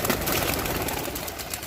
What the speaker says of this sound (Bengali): এবার আমরা আমাদের ভাইকে দিয়ে আসলে কবুতর ছাড়ার চেষ্টা করতেছি